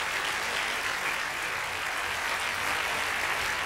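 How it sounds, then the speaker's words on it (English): A business conference audience, in a church-style setting, gives a sustained round of applause, a dense, even wash of clapping from a large crowd throughout. "Would you give Brother Ed another round of applause?"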